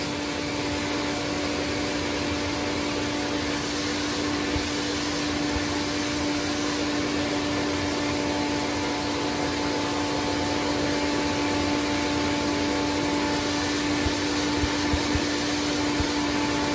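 Electrolux Z Series vacuum cleaner running steadily, a loud, close, unbroken motor whine with strong airflow hiss and a constant tonal hum throughout.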